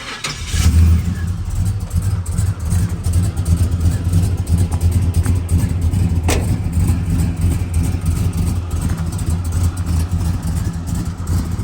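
A 1987 Monte Carlo SS with an LSX engine and Borla exhaust cranks briefly and settles into a loud, steady, deep idle rumble that continues close by, with no talking.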